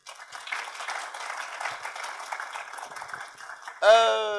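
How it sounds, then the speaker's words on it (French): Audience applause and cheering at a live art exhibition and music event, a steady broadband patter of clapping with scattered shouts that runs for about four seconds, then a sudden loud tonal burst near the end. "Ça mérite des acclamations"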